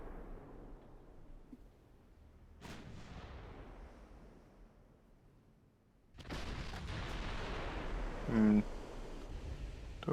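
Warship turret guns fire salvos in Ultimate Admiral Dreadnoughts, with several same-caliber turrets going off together. A sharp boom comes early, then a louder, heavier barrage of blasts rumbles on for several seconds.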